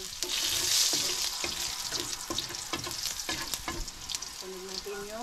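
Garlic sautés in a hot pan with a loud, crackling sizzle, punctuated by scraping and clattering strokes as it is stirred.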